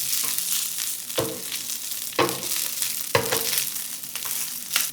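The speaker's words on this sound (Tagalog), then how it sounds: "Then, isasangag ko yung kanin." Cooked rice stir-fried with garlic in a pan, a bright steady sizzle broken by three distinct scraping tosses about a second apart, close and fairly loud, with no voices.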